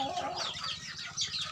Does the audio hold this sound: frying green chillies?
no